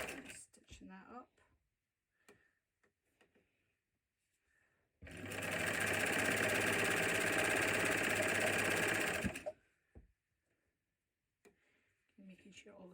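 A sewing machine stitches a hot water bottle cover in one loud, continuous burst of about four and a half seconds, framed by quieter handling sounds and brief speech before and after.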